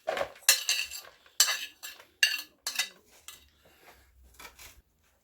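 Boiled potatoes scraped off a cutting board and cabbage dropped into a bowl, a string of close scraping and clattering knocks of utensil on board and dish, each short and separated by near silence.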